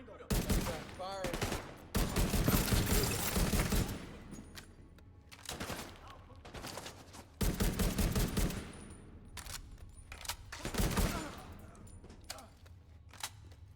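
Bursts of rifle gunfire from The Division 2 come in loud rapid volleys, several separate strings of shots spread across the stretch. Quieter gaps with single cracks sit between them, and faint game sounds fill the background.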